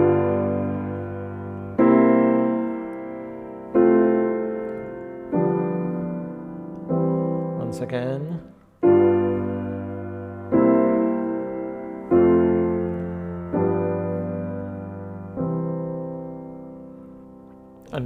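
Closing chords of Bach's Prelude in C, played as a series of about ten sustained keyboard chords, each struck loudly and left to decay, with a brief spoken phrase partway through.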